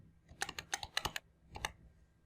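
Typing on a computer keyboard nearby: a quick run of crisp key clicks, a short pause, then a few more taps, with no speech.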